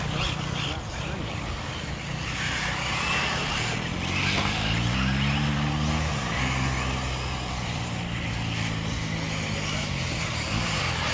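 A radio-controlled car at full throttle on an RC raceway, a loud continuous whining motor with rising and falling pitch sweeps as it accelerates through a section, heard under excited talk and ambient track noise.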